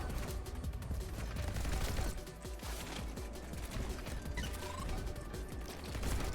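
Dense, continuous gunfire from the LMG in the fast-paced first-person shooter Neon White, its grenade shots popping amid a busy, loud mix of rapid impacts and mechanical clatter with no pauses.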